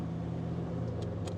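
A 1934 Packard Eight Convertible Victoria idles steadily in traffic in Westchester County, New York, giving a low continuous engine rumble with a couple of faint higher clicks near the end.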